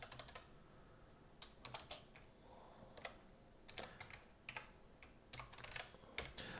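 Someone types on a computer keyboard close by, quick irregular bursts of clicking keystrokes with brief pauses, quiet and alone.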